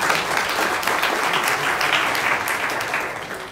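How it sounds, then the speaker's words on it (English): A conference audience breaks into steady, dense applause at the close of a business-case session, sustained and fairly loud for the whole stretch before easing slightly at the end. "so you guys can actually applaud now"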